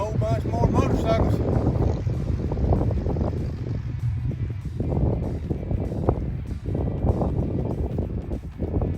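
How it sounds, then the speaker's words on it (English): A whole group of motorcycles goes by outdoors, a sustained loud broadband engine rumble with repeated swells as the bikes pass, wind buffeting the microphone, and someone talking over it. "Goes a whole bunch more motorcycles."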